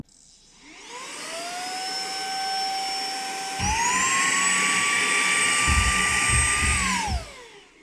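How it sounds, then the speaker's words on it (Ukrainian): A vacuum cleaner motor whines up from start to a sustained high-pitched drone, then shifts to a higher, louder speed partway through before winding down at the end. "давайте спробуємо на цьому пилососі подивитися"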